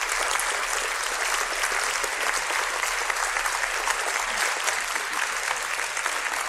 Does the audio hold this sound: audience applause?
yes